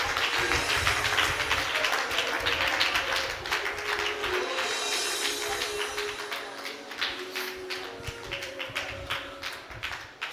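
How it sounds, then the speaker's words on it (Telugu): A congregation at a Christian prayer seminar in Guntur claps loudly in a steady, repeated rhythm, many hands together, over sustained musical tones. "గట్టిగా చప్పట్లు కొట్టు."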